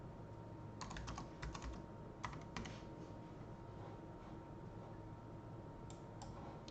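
Quick bursts of typing on a computer keyboard, close and fairly crisp, in several short clusters with pauses between them over a steady background hiss.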